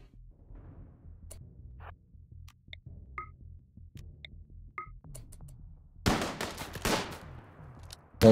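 Gunfire in the Rimworld video game, several small clicks and faint pops over a quiet rumble, then a loud shotgun-like blast with a decaying tail, and another hit at the very end.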